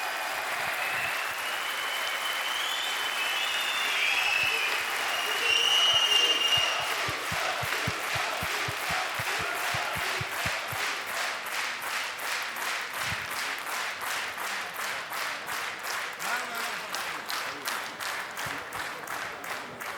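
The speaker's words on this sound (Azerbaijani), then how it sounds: "Çox sağ olun alqışlarınıza görə" An audience claps loudly and continuously at the opening of a majlis gathering, with the applause swelling and then settling into rapid, fairly uniform clapping that carries on to the end.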